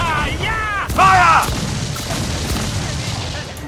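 Ship cannons fire in the pirate video game Assassin's Creed 4 Black Flag, a sharp boom with rumbling decay and a few further thuds, behind crackling battle noise and a brief burst of voices.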